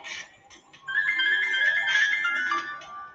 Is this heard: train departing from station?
no